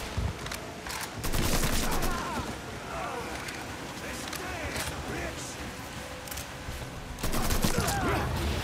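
Shotgun blasts ring out in Mafia III during a bayou firefight, several sharp loud bursts at the start and again near the end, with creaking and rattling clatter between them.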